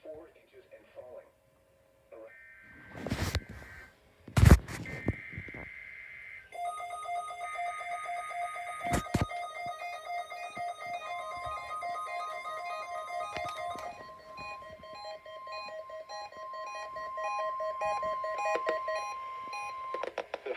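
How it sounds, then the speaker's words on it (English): NOAA Weather Radio Emergency Alert System weekly test: short digital data bursts followed by a long, steady two-tone warning alarm, loud and continuous over a faint background. "This is a test of the NOAA Weather Radio Warning Alarm Device and Emergency Alert System."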